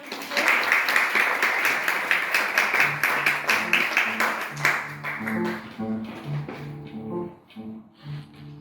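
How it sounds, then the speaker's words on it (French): An opera audience applauds the actors with dense, steady clapping that thins out after a few seconds, leaving scattered claps and a low murmur of voices. "Un petit applaudissement pour les acteurs"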